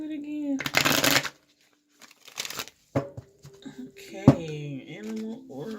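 Animal oracle cards being shuffled by hand in a couple of quick riffling bursts with soft papery crinkles between them, close up, while someone speaks briefly.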